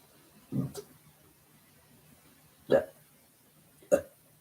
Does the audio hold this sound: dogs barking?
no